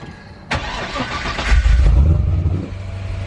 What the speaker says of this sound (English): I'll start it up, do a walk around on it.